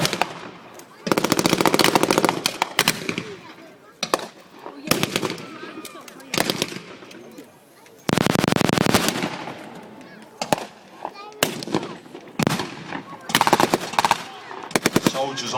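Sten guns and Bren guns fire in bursts during a WWII battle reenactment at Dover Castle, England, with loud rapid automatic volleys broken by short pauses and scattered single shots, at mid distance outdoors.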